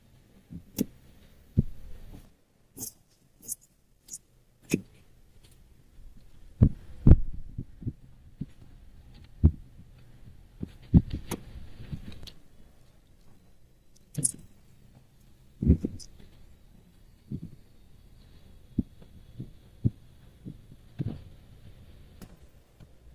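Scissors cut the back piece of a blouse from fabric, with scattered soft snips, clicks and dull thumps on a table over a quiet background, irregularly spaced and close.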